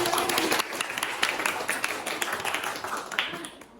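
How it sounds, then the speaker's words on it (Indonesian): Students in a classroom clap for their classmates, a dense, steady patter of many hands that carries on for a few seconds without a break. "Aplaus untuk teman-teman"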